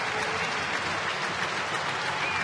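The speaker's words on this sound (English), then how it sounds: "as you can hear, there's a big round of applause being sounded" A crowd at a baseball stadium during a Reds–Pirates game applauds steadily, a dense, continuous wash of clapping and cheering that holds at even loudness throughout.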